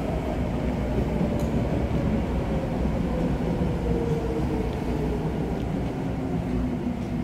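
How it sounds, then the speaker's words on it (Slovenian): A Vienna U2 subway train arrives at Seestadt station, a loud, steady rumbling roll with faint squeals and clanks throughout, with no talking. "No in zdaj je prišel vlak."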